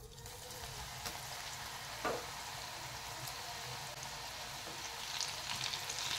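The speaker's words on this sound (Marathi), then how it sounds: "आणि तेलामध्ये जेव्हा आपण या शेंगा टाकतो ना गवारीच्या, तेव्हा त्या लगेच पण हलवायच्या नाहीत" Cluster beans (gavar) fry in hot oil, giving a steady, even sizzle throughout with a few faint pops and clinks and no talking.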